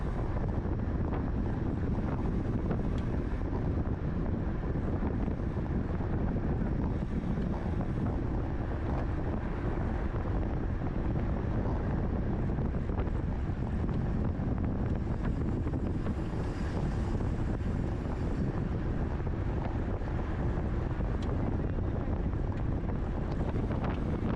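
Constant heavy wind roar buffeting the microphone as a road cyclist rides straight into a headwind during a circuit race, loud and unbroken throughout with no voices.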